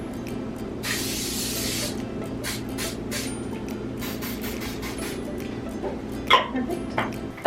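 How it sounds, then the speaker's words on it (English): Canola oil cooking spray hisses onto a small heart-shaped Bundt cake pan in a home kitchen: one long close burst followed by several short quick spritzes, with faint background hum. "I'm gonna spray that with some canola oil or whatever oil spray"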